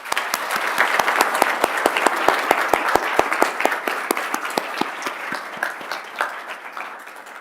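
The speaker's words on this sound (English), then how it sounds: "let's clap and congratulate them" Audience applause at a diploma ceremony for a game-development graduate cohort: steady, dense clapping from a crowd filling the room, with a few sharper claps standing out near the start, tapering slightly toward the end.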